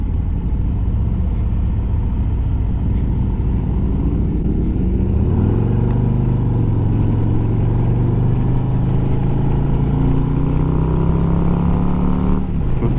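A Harley-Davidson Street Glide CVO motorcycle with a 117 engine drones steadily while riding, then revs and climbs in pitch as it accelerates through a gear, with wind rushing throughout.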